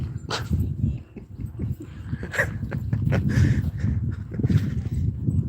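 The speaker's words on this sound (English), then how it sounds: "Just a very curious dog." On an early morning walk, a curious dog snuffles and gives a few short, soft barks mixed with whimpering, close by over outdoor rustle and footsteps.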